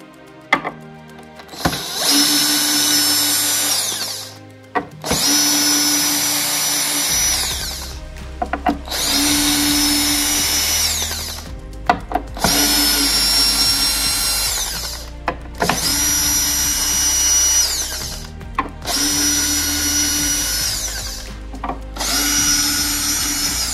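Power drill driving out seven screws from a Paradigm CC-390 speaker's tweeter and midrange assembly, seven loud whirring bursts of a few seconds each separated by brief pauses and clicks.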